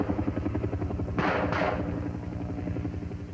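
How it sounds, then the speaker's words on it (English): A Huey helicopter flies during an Air Force training exercise, its rotor beating in a loud, steady rhythmic thump throughout, with a brief burst of sharper noise midway. "They call the pickup helicopter in to recover the team."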